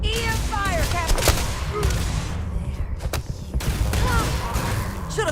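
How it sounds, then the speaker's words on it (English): EM weapon fire in the video game Starfield crackles in dense, overlapping bursts through a busy firefight, with voices calling out over the constant shooting. "EM fire, Captain!"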